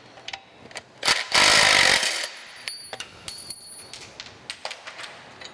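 An impact gun hammers out bolts on an old metal planer in a workshop, with one loud, close rattling burst of about a second amid short clanks and tool handling.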